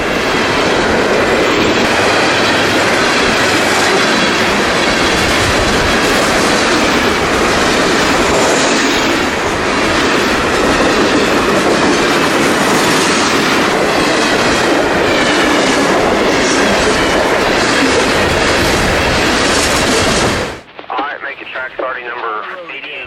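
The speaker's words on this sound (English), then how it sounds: "NS 321 is a Macon to Jacksonville manifest train with traffic for the FEC." A Norfolk Southern manifest freight train, running from Macon to Jacksonville with traffic for the FEC, rolls past loud and close in Georgia. Its dense rumble and clickety-clack wheels carry steadily for about twenty seconds before it cuts off abruptly.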